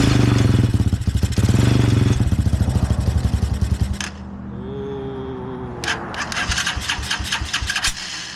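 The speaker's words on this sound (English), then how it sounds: "Ooh, little backfire." A 250cc go-kart engine cranks and fires loudly for about four seconds, then cuts to a quieter idle before revving again in uneven pulses, with sharp crackling backfires near the end.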